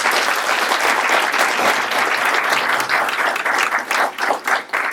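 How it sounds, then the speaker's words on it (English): Loud, dense applause fills a conference hall, many hands clapping steadily and close, with a few individual claps standing out as it begins to taper near the end. "And please give him a round of applause."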